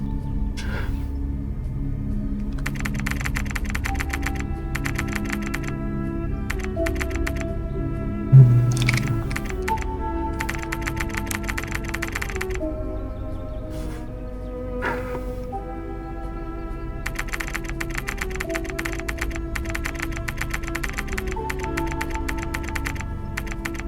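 Rapid in-game keyboard typing in the video game Silent Stay clatters in bursts over a steady background of music, with a brief louder thump partway through.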